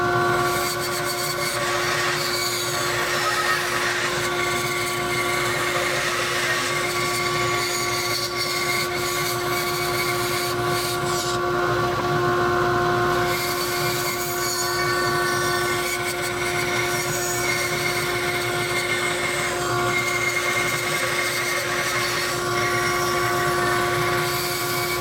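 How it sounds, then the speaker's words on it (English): A bandsaw cuts away the waste wood of a bandsaw box drawer, giving a loud, continuous whining drone with steady tonal hum and broadband rasp that holds unbroken throughout. "going to take them over to the bandsaw and cut away our waste area of the drawer"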